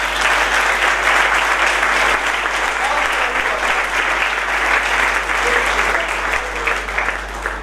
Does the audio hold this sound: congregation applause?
yes